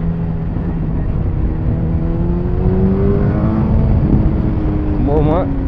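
A Yamaha Fazer motorcycle with a MIVV Strom GP exhaust and the baffle removed sits at a steady loud idle, then revs sharply near the end in a few quick blips, heard up close.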